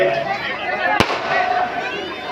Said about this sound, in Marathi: फटाक्याने त्यांचं स्वागत झालेलं आहे